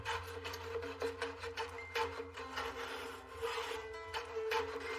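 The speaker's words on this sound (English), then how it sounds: "I'm going to hold my plane on angle like that. I'm going to shave it so I take more off of the bottom" A hand plane shaves wood at an angle to bevel the bottom edge of a board, giving steady rasping strokes in a close, continuous rhythm with no talking.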